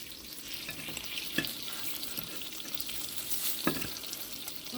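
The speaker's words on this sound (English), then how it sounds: "we're gonna go ahead and we're gonna flip our toast" French raisin bread toast frying in a pan, a soft steady sizzle with a couple of brief scrape or clatter accents as the slices are handled.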